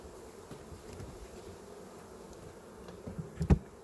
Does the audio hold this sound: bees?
yes